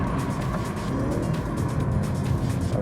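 A car lapping the Zandvoort Formula 1 circuit on a slippery track gives a steady, fairly quiet engine drone with a low rumble and some wind noise, held continuously with no clear revving peaks.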